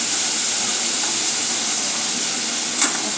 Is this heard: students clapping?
no